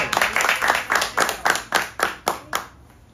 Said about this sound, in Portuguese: Salva de palmas pro Jardel.